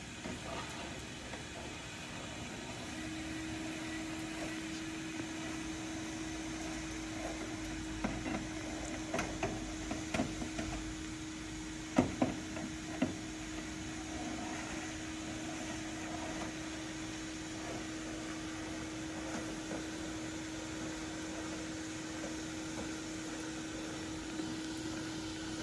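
A gutter vacuum runs steadily throughout, a constant motor whine with a strong mid hum and broadband suction rush, with occasional brief knocks and rattles of debris mid-way, no talking.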